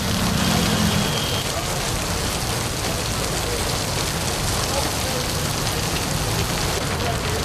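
Heavy monsoon rain pours down in a steady, loud, dense hiss with no letup, filling the whole stretch.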